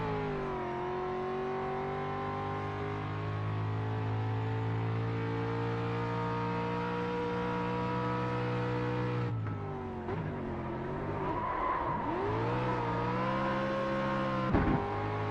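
Race car engine in Grid Rivals holds a loud, steady harmonic drone under acceleration for several seconds, then drops and sweeps through shifting revs and gear changes. A short sharp hit comes near the end, and there is no talking.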